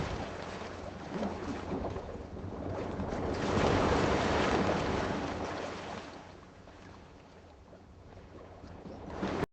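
Ocean water surging and washing, swelling to a louder rush in the middle then easing off, with a brief splash near the end; no voices.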